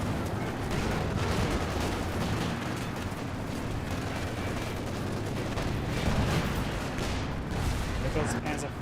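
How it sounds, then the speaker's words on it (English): A satchel charge blows up on a Panzer 4 tank in the Company of Heroes 2 strategy game, the blast buried in a constant roar of artillery and gunfire with a commentator talking over the battle. "Got a satchel charge there on the AI Panzer 4."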